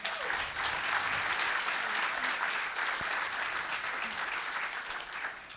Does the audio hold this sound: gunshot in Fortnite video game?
no